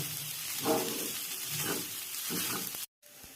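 Sabudana khichdi with peanut powder and salt being stirred and sautéed in a pan, with steady sizzling and rhythmic scraping strokes, then a short dropout before it resumes.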